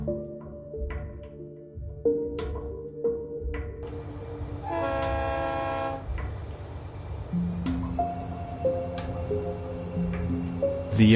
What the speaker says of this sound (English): The engineer starts the train.